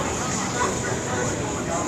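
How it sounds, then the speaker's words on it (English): A Charlotte-Mecklenburg police helicopter circles above a street protest march in uptown Charlotte, North Carolina, heard as a constant broadband drone with no clear rotor beat, mixed with the murmur of the crowd. "Still the sound of the Charlotte-Mecklenburg police helicopter flying overhead."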